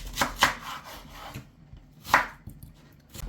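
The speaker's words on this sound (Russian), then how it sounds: "Одну большую луковицу нарезаем кубиками" A knife quickly chops a large onion into cubes on a board, a rapid burst of close, crisp strikes, a pause, then a few more cuts.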